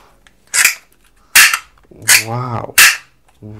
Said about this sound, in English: Wow, this is another soft bullet toy gun.